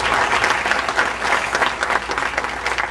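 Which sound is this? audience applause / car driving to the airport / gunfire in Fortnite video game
audience applause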